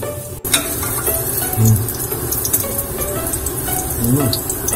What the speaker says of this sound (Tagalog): luto ako ng tongkatsu. Prito-prito lang